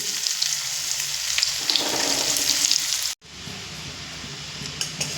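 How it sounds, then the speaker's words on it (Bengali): Continuous crackling sizzle of onions frying in hot oil, close up, with occasional stirring clatter and a brief break midway. "পেঁয়াজ কিন্তু ভাজা হয়ে গেছে"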